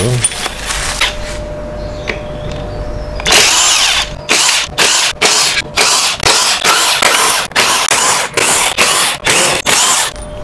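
Impact wrench spinning out the CVT cover bolts on an automatic scooter during a service, sounding as a run of about a dozen short, loud bursts in steady rhythm after a quieter start.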